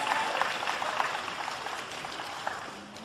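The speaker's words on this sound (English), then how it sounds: "One more round of applause for your silver medalist." A crowd at a beach volleyball gold medal match applauds the silver medalists, a steady wash of clapping from a distance that slowly fades toward the end.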